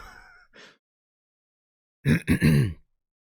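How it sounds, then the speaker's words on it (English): A short breathy sound, silence, then a quick burst of three rough coughs close to the microphone. "I apologize if I'm coughing."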